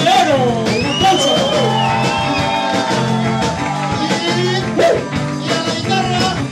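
A bar crowd shouts, whoops and cheers for a trombonist during a live band concert, the loud cheering layered over sustained music and a voice on the microphone.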